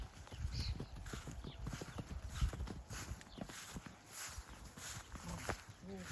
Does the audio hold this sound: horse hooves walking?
yes